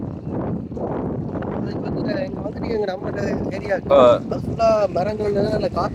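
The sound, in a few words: wind blowing on the microphone outdoors on farmland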